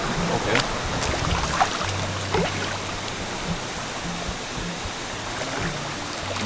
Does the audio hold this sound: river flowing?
yes